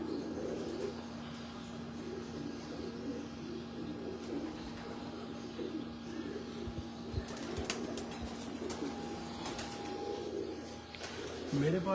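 Pigeons on a Lahore rooftop coo steadily through a low, continuous murmur, with a few brief wing flaps and faint background voices.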